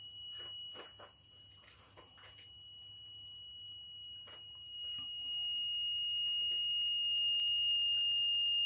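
Active 1.2–12V electronic buzzer driven at raised voltage, giving a steady high-pitched tone that grows louder and more constant, with faint clicks and handling noise early on.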